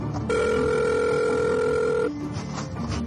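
A telephone rings once: a single loud, steady electronic tone that holds for nearly two seconds and stops abruptly, over a murky background.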